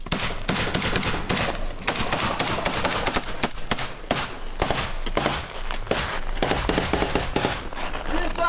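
Explosive charge detonates during trench assault training, a burst of sharp cracks and thumps amid ongoing bangs and rattling, with shouted voices of soldiers around it.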